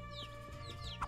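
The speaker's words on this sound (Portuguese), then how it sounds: "Que é isso? É um pintinho?" A chick chirping in the video game Guacamelee!, several quick, high descending peeps in a row, clear but fairly soft over a steady game music background.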